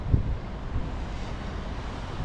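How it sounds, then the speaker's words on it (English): Steady wind blows outdoors on Tresco in the Isles of Scilly, a continuous low roar with rough buffeting against the microphone and no one speaking. "I don't think the wind is going to stop, like, for the rest of the time I got here"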